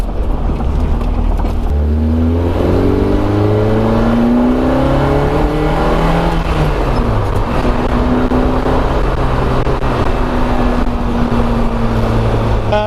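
A 1997 Renault Sport Spider engine runs loudly through a road test drive, rising in pitch as it accelerates through gears, then settling into a steady cruising drone.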